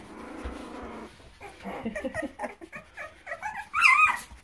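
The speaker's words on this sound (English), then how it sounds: "they started a little bit of growling and barking" Boxer puppies growl and whimper, then break into a run of high yips and small barks, close by and getting louder toward the end.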